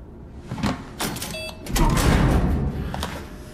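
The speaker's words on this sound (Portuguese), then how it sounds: "Ah, é porta pesada." A heavy door in the video game Zoochosis moves with a mechanical whir and clunks, followed by a loud, sustained grinding rumble as it slides, fading toward the end.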